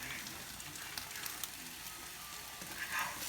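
Eggs cook and are stirred lightly in a pan, giving a faint, steady sizzle with soft scraping touches throughout and no talking.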